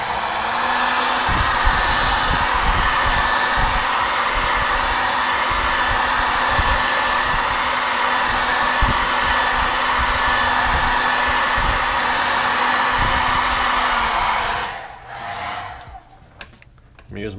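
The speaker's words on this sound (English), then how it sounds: "I'm using my wife's hair dryer with a setting for just air." A hair dryer on an air-only setting, cooling sushi rice, blows continuously with a loud, steady whoosh and hum for most of the clip, then switches off and fades near the end.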